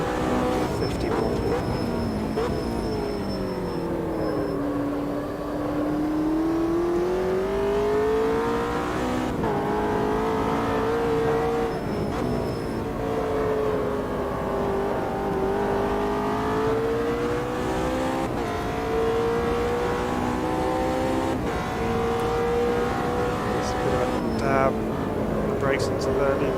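Race car engine in the Automobilista 2 GT racing game, a loud sustained roar that climbs and falls repeatedly through gear changes and braking, with a voice talking over it throughout.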